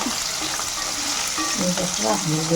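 Onions frying with salt in a pan, a steady close sizzle with some stirring, for a Rayalaseema-style onion pakoda curry. Faint musical tones sit underneath.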